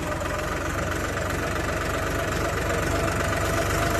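A New Holland 3230 tractor engine runs at a steady idle, an even, low mechanical chugging with a constant vibrating hum and no pauses.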